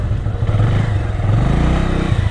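A motorcycle engine runs close by as the bike is brought to a stop for parking near a hillside temple in Nepal, giving a steady, loud low rumble with no one talking.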